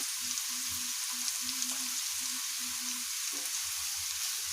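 Crushed peanuts fry in a pan for a carrot barfi halwa, giving a soft, steady sizzle with faint crackles and some low bubbling, close and quiet with no talking.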